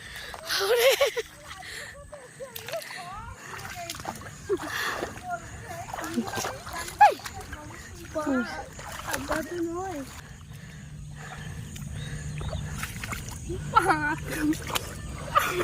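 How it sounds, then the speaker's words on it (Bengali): Footsteps splash and squelch through knee-deep mud and shallow floodwater in fields near the Damodar river, close by, with people talking over them throughout. "কত মাঠে মাঠে কাদায় কাদায় জলে জলে আমরা চলেছি বান দেখতে"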